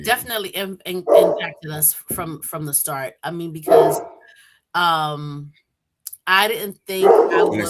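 A pet dog barking excitedly indoors in the early morning, several sharp barks near the middle under and between steady conversational speech.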